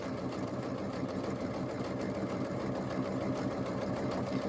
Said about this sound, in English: So just let your machine do the work. And this machine is by Pfaff.